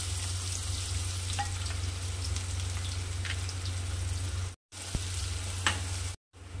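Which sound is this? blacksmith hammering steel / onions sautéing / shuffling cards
onions sautéing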